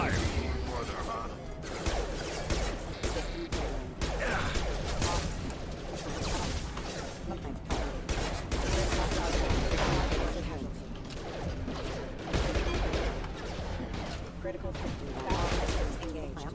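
Gunfire and combat mechanisms crackle in the video game Mass Effect 2 Legendary Edition, irregular shot bursts scattered throughout and partly mixed under voices talking.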